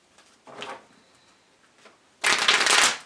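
A deck of tarot cards is shuffled in two close, crisp bursts: a softer riffle first, then a louder, longer flurry of cards after a short pause.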